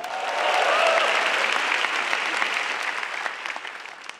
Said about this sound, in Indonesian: Sekali lagi teman-teman tepuk tangan untuk Balai Sarbini.